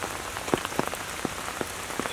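Rain falling outdoors at a shooting range, a soft, steady patter with distinct individual drops ticking close by and no voices.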